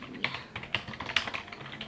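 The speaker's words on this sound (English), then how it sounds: "I'm gonna keep typing this up." Steady clicking of fingers typing on a computer keyboard, close and fairly loud, in quick irregular bursts with no talking over it.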